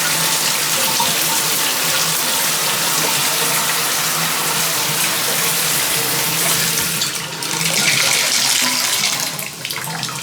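Water runs steadily from a tap into a bathtub and down its freshly unclogged drain, a continuous close, loud gush that briefly shifts in tone near the end.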